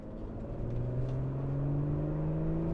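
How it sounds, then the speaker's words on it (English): A 2021 Audi S4 engine, driven in comfort mode, accelerates with a smooth, rising drone heard from inside the car, climbing steadily in pitch with a low rumble underneath and no talking. "now you can hear the sound of the engine"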